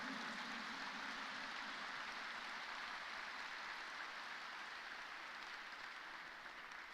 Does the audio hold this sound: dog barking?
no